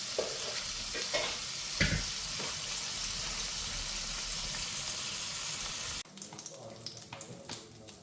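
Chicken pieces for butter chicken cooking in a pan, a continuous close sizzle and bubbling with stirring clatter, then dropping to a quieter, sparser sizzle for the last couple of seconds.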